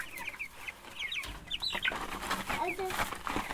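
Several meat chickens cluck and chirp nearby in scattered bursts, with a person talking quietly among them.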